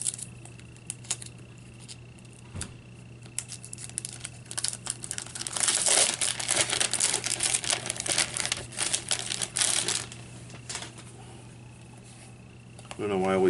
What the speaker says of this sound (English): And then we get this tablet out of this plastic.